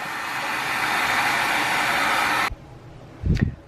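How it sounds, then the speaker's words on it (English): Blow dryer running on low setting while gluing lace onto a gothic chandelier, a steady close whooshing hum for a few seconds that cuts off abruptly, followed by a soft thud. "Get a blow dryer. I'll put it on low where it ain't real loud."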